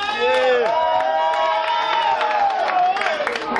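A live crowd at a rap battle roars and cheers for a rapper, a sustained swell of shouts and whoops, loud and close, with voices mixed in.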